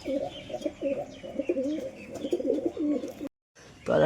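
Close, repeated throaty cooing comes from a pair of pigeons sitting on eggs, in rhythmic warbling phrases that break off in a short silence before a louder burst returns.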